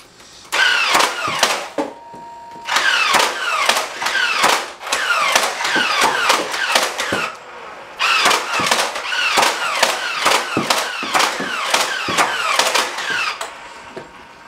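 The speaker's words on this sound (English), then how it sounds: "this is it in action" Twin computer-controlled Nerf Stampede sentry guns fire in rapid bursts of sharp clattering shots, stopping and restarting several times, loud and close, with the two guns sometimes slipping out of sync.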